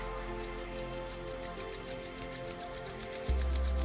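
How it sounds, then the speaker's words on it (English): Palms rub together slowly during a guided meditation, making a soft, rhythmic swishing friction that repeats evenly over quiet background music. "slowly rub your palms"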